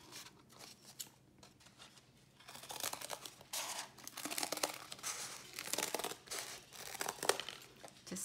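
Scissors cut through household cardboard with crisp crunching snips and crinkling that grow louder and denser midway, close by and with no speech.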